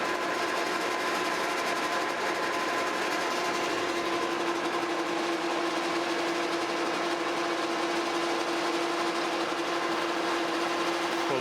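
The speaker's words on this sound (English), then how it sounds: "now we're going to come in here with our center drill and put a center hole in the end" A metal lathe runs steadily as a center drill cuts a center hole into the end of a threaded rod, a constant high machine whine with a clear tonal hum and no pauses.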